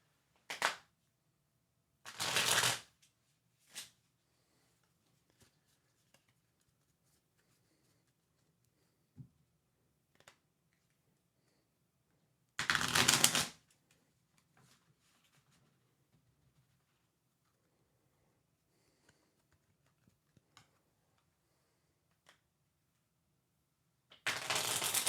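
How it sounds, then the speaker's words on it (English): Tarot cards are shuffled in a few short, crisp riffling bursts separated by long quiet gaps, close and fairly loud, with faint small handling clicks between them and no talk. "I'm going to start shuffling cards."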